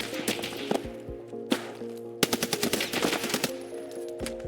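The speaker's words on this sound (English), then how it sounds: "I got shot at by a bolt action in the first place." Bolt-action rifle fire in a shooter video game, several sharp cracks followed by a rapid burst of shots and impacts, loud and close over a low game hum.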